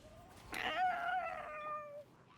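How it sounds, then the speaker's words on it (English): A cat gives a single drawn-out meow, rising and then sliding down over about a second and a half, fairly faint against a quiet background with no voices. "Do you not hear the meowing?"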